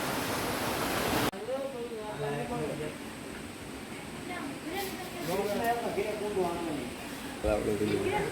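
Jatashankar waterfall near Junagadh, with flowing water making a constant broadband rush. Voices talk over it throughout, and the roar swells louder toward the end.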